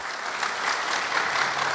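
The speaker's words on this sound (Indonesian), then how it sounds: "tepuk tangan buat mereka ya." An indoor audience at a meeting applauds in a dense, steady wash of clapping that stays at an even level throughout the short moment.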